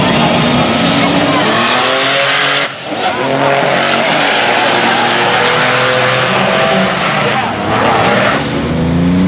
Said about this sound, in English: I spun the tires.